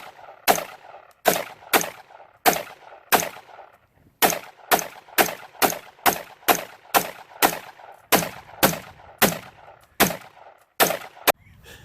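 An AR rifle fired outdoors in a steady string of sharp, loud shots about half a second apart, each crack trailing a brief echo, continuing until the magazine runs empty.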